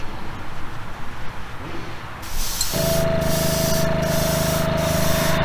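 A spray can applies a wet base coat to a custom Hot Wheels Bone Shaker car body, hissing in short bursts and then holding a steady close, continuous spray.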